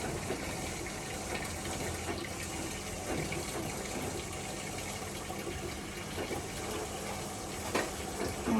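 A floor-cleaning machine on a test run sucks up water with a continuous loud gushing, slurping wash that holds steady from start to finish.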